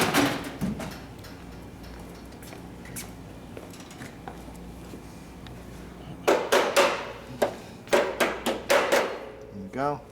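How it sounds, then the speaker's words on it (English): Metal parts of a 1938 Harley-Davidson Knucklehead rear brake assembly being tapped into place, heard as a quick run of about eight sharp, close taps in the last few seconds after a quieter stretch of faint workshop handling. "We're going to do a little mount and tap that in place."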